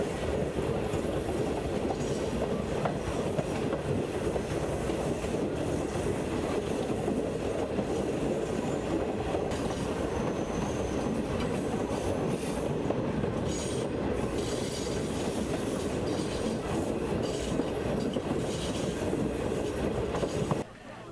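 A passenger train rumbles through the rustic Jamaican countryside, its continuous heavy roll broken by wheel squeals and clattering rail joints, loud and sustained with no talking.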